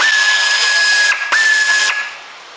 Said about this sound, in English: just for quickness sake I'm going to use an air tool because you can't beat